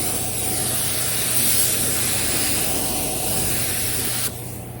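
A spray gun hisses steadily and loudly as it lays blueberry candy paint onto a 1984 Chevrolet C10 truck, a continuous close airy rush that cuts off abruptly near the end.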